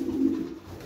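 A single soft, low cooing call from a pigeon, close and brief, fading into quiet.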